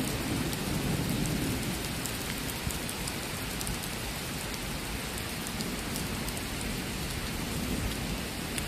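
Heavy rain pours steadily in a thunderstorm with a low thunder rumble rolling underneath, a dense, loud, continuous wash with no speech.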